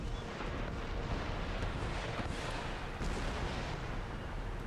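Cannon and saker artillery in Empire Total War sound as a dense, continuous rumble of distant battlefield fire, muffled booms overlapping with no clear gaps, held at a moderate steady level.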